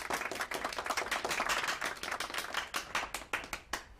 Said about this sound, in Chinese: 让我们用热烈的掌声欢迎梁永军登场。